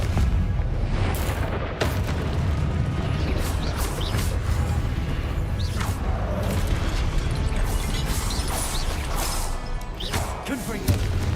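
Explosive Confringo blasting spells go off in the video game Hogwarts Legacy, a run of heavy booms and crashes hitting one after another over dense, loud combat noise.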